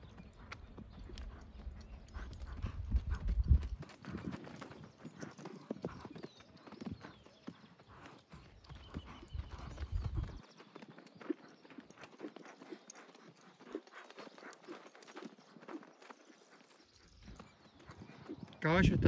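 Criollo horse hooves clip-clop steadily on the ground at a walking pace while circling, with voices talking over them throughout.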